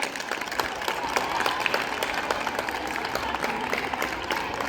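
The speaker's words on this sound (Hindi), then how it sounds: "एक बार आनंदी माता जी के लिए और उनके सभी सहयोगियों के लिए जोरदार तालियों से उनका स्वागत किया जाए" A crowd applauds to welcome Anandi Mata and her associates at Rock Gold Academy in Shamli, a dense, steady round of clapping sustained at an even level throughout.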